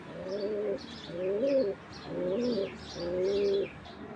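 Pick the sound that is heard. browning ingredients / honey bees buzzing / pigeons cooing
pigeons cooing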